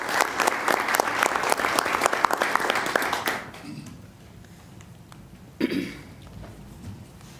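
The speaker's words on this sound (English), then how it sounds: "Let's give her a round of applause" A round of applause at a city commission meeting, a few seconds of steady clapping from a modest crowd that stops abruptly, followed by a quiet room with a brief cough.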